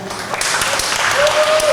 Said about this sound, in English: give a roaring round of applause for John Ng, Managing Partner at Signum Capital